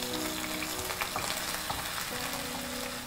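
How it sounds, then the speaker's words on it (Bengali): About three tablespoons of onion paste sizzling in a pan, a steady crackling fry with occasional spoon stirs and faint tonal hums in the background, quiet and close. "3 টেবিল চামচ পেঁয়াজ বাটা দিয়ে আমরা একটু ভেজে নিচ্ছি"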